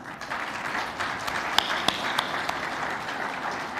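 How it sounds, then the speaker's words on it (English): Audience applause closing a live dialogue event ceremony, a steady moderate wash of clapping across the whole stretch with a few sharper individual claps standing out midway. "let us give them a round of applause"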